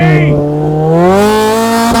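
A cheap track-ready race car revving hard with its wheels spinning in snow, a loud close engine whine climbing steadily in pitch, with a voice briefly heard over it.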